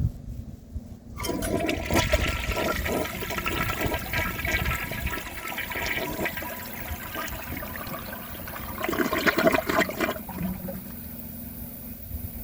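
A 1987 Armitage Shanks Kilgore Aladdin toilet flushes a washcloth, a sudden loud rush of water that churns steadily for about ten seconds before giving way to a quieter refill trickle, close up with no voices.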